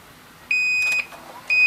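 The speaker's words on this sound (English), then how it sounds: "when there's an error, it beeps." A Sylvania SY96R time-lapse VCR sounds an error alarm after its head drum is stopped: two steady high electronic beeps, each about half a second, loud and close, with no talk over them.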